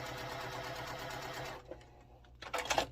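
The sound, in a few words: sewing machine stitching quilt block pieces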